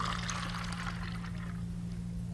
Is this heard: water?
yes